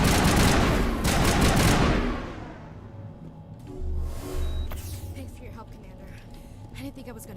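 Shotgun fire in the video game Mass Effect: about two seconds of dense, loud blasts in quick succession, then a fading tail and quieter game sounds.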